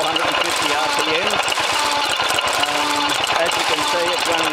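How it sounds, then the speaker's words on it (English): A vintage Buzacott 2 horsepower stationary engine running at about 450 RPM and driving an Ajax sludge pump, giving a loud, steady, rapid thumping chug that continues without a break, with a voice talking over it. "Buzacott engine, 2 horsepower, running at about"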